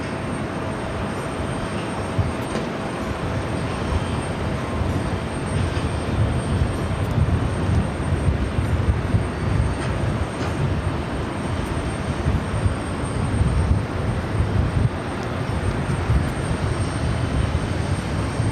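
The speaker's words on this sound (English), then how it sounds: "Dreamliner now taking off" A Turkish Airlines Dreamliner rolls for takeoff on runway 13 right at JFK, a steady broad roar of jet engines that holds loud and even throughout with no voices over it.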